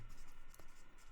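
A pen drawing a dollar sign on paper gives a soft, close scratching that runs steadily for about a second, with one brief sharper stroke near the middle and no talk.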